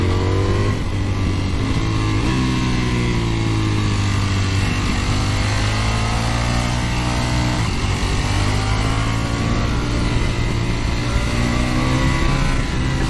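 A Ducati Panigale V4S motorcycle ridden on the road, its engine droning loud and continuous while the pitch rises and falls through steady acceleration and easing off.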